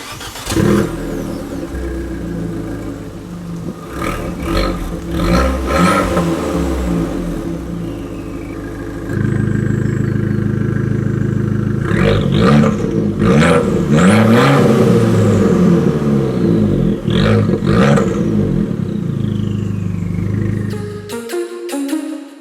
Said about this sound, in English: You also have to hear the exhaust, because the Valvetronic Monzas are incredible.